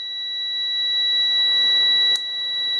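A steady high-pitched continuity beep from a multimeter testing a relay sounds continuously, then a click as it cuts out near the end.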